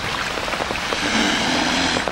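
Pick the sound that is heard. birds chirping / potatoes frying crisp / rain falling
rain falling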